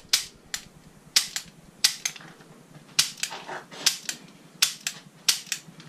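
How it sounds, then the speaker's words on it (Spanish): A Bersa pistol fires in quick pairs and short bursts during a magazine change drill, the sharp, loud cracks coming at a steady pace with brief pauses between groups, with no voices. "Cambio de cargador. Y sigo disparando."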